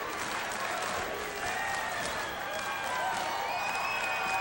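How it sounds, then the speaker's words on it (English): A packed stadium crowd at a Canadian university football game roars and claps steadily for the hometown Saint Mary's Huskies, a dense continuous swell of cheering with a few whistles rising above it. "they are cheering for the hometown Huskies"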